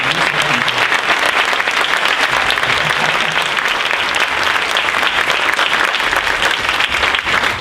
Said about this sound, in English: Applause for Elijah.